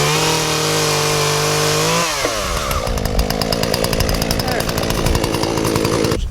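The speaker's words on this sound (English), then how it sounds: "Probably get the friggin' chainsaw today." A chainsaw roars close by outdoors during work on an off-grid outdoor shower, holding a steady high whine before dropping into a rougher, fluttering cut-like drone.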